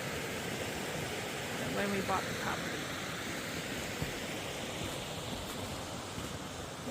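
Steady broadband rush of a creek flowing right beside an off-grid tiny cabin, a constant wash of water under a person talking nearby.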